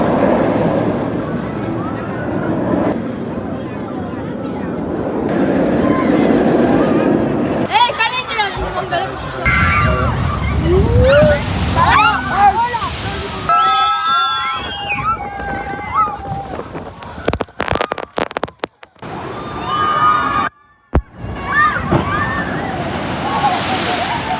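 Loud rushing water and heavy splashing surge around a moving water ride at a Spanish holiday destination, with shouting and crowd chatter mixed in, then sudden sharp splashes near the end.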